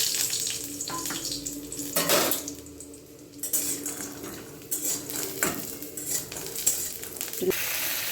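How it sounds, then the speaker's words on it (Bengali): Spinach leaves rinsed under a running kitchen tap, a steady broadband water hiss with splashes and occasional clinks of dishes or utensils in a sink, continuous and close throughout. "ততক্ষণে আমি পালং শাকটা ধুয়ে নেব।"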